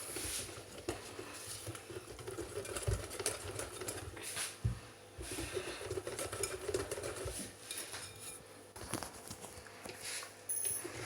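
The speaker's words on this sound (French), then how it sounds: "Alors on met un petit peu de l'eau et on mélange ça." Eggplant fritter batter stirred with a little added water, giving soft irregular clinks and wet slapping taps of a utensil against a bowl, fairly faint and close.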